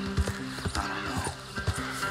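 Horses in the video game Red Dead Redemption 2 trot with steady, fairly close clip-clop hoofbeats repeating in a regular rhythm over quiet ambient noise.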